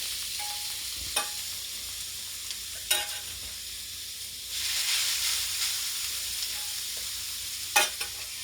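Homemade hash browns frying in a pan of oil, a steady close sizzle with a louder hissing surge midway and a few sharp clinks of a utensil against the pan.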